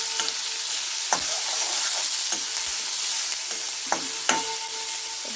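Fenugreek seeds fry in hot oil for a taro root tamarind curry, making a loud, constant hiss and sizzle. Occasional spoon scrapes and taps against the pan come through clearly.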